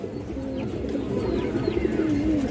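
A male black Indian High Flyer pigeon coos in low, repeated throaty calls, close by, over a steady background hum with no talking.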